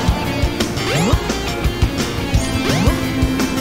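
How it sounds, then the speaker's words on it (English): Jump sound effects in Sonic Adventure DX during Big's story, repeated rising and falling swoops over busy game noise and thuds. "That's a weird jump sound!"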